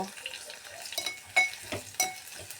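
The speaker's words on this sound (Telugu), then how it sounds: "జీలకర్ర వేసిన ఉల్లిగడ్డ వేసిన కలుపుతున్నాయి" Chopped onion and cumin seeds frying in a pan for a capsicum coconut curry, with a soft steady sizzle under several sharp scrapes and clinks of a spoon stirring, close and fairly quiet.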